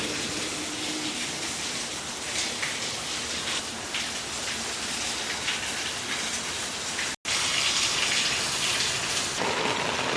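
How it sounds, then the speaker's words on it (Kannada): Heavy early-morning rain in Kolar pours down in a dense, steady hiss, drumming on surfaces nearby, with a brief cut partway through before the downpour continues. "ಒಳ್ಳೆ ಮಳೆ ಬೀಳ್ತಾ ಇದೆ ಗಾಯ್ಸ್."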